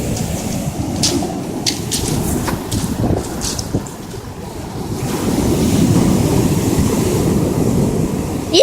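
Ocean waves break and wash onto a beach at Oryu beach during a camping trip, a continuous loud roar of surf mixed with buffeting wind noise on the microphone.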